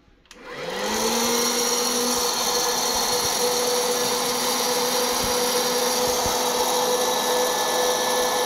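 Large popcorn machine switched on with sugar added, its motor spinning up within a second into a loud steady whir and hum that holds evenly, with a few faint knocks underneath.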